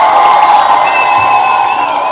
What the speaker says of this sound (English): let's give G-Man a round of applause